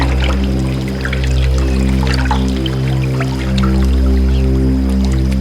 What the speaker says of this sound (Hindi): पी लो पानी।